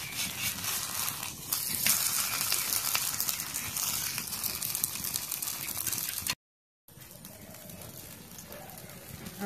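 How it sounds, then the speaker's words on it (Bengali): Paratha frying in a little oil on a tawa gives a steady, close, crackling sizzle that runs unbroken, drops out briefly, then resumes more quietly. "আমি পরোটাগুলো ভাজে নিব"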